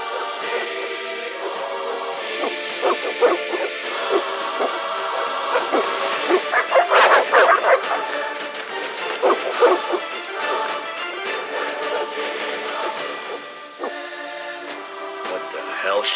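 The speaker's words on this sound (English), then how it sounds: "They're evil dogs." Several dogs in the video game The Witcher bark, yip and whimper in a busy, overlapping chorus, sometimes loud and frantic, with a steady layered background behind them.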